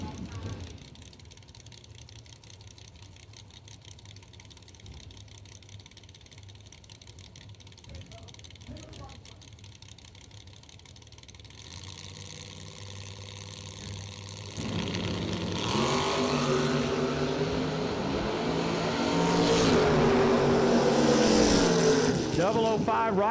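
Ford Mustang and Chevy Camaro launch side by side in a drag race, their engines building from a low idle rumble into a loud, roaring run that swells toward the end, with voices and crowd noise underneath.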